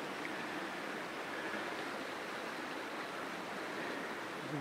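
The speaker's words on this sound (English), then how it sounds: "The water flows away down here." A small stream running over stones in the Creuse countryside of France, heard close as a continuous, even rushing wash with no other sounds.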